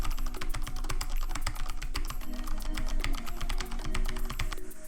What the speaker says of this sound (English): so you can hear the actual keys click